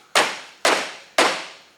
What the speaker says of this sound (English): I'm using a rubber mallet on that, so don't use a regular hammer